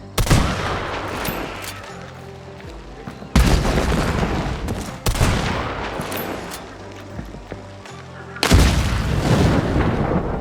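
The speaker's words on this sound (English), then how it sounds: "Red and yellow barrels explode immediately when you shoot them." Loud booming explosions of shot barrels in the video game Hunt: Showdown go off one after another, each followed by rumbling debris and crackling, with gunfire-like bursts between them.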